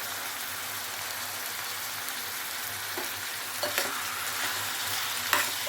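Mutton fries in a pan with turmeric and ginger-garlic paste, giving a continuous rain-like sizzle close by, while the spoon scrapes and clatters a few times near the end.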